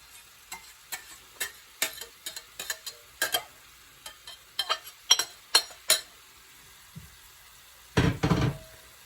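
Shrimp and ginger go into a hot stir-fry pan with a run of sharp utensil taps and scrapes against the pan, then a loud burst of sizzling near the end; nobody speaks.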